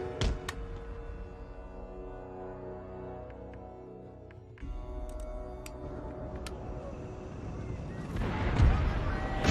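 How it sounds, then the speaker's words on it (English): Empire: Total War battle audio with low booms and sharp cracks of artillery cannon fire scattered throughout, a heavier blast near the end, over a steady rumble. "they are actually firing at my horses"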